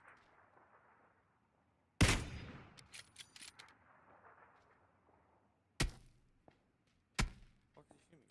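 Sniper rifle gunfire in a shooting video game: a loud close shot followed by scattered impacts and debris, then two more sharp single shots several seconds apart, with quieter rumble and clatter between.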